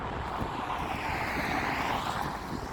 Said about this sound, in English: I have no idea if the audio is going to come out okay on this, because it's quite windy